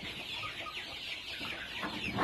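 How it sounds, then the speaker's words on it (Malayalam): Roosters cluck and murmur continuously at moderate distance, a busy flock of village fowl with no voices over them. "ഇതാണ് എൻ്റെ ഗ്രാമപ്രിയ പൂവൻ കോഴികളുടെ ശേഖരം"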